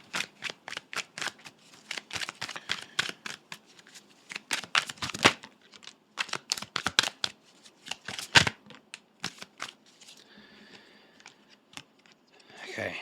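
Tarot cards being shuffled and drawn: a long run of quick, close, crisp riffling flicks and slaps in uneven bursts, ending in softer card handling, with a voice speaking quietly at times.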